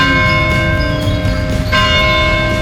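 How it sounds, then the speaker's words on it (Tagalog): Church bell ringing in a church, a sustained series of loud, resonant strikes with long overlapping tones and no talk. "Ayan, may bell."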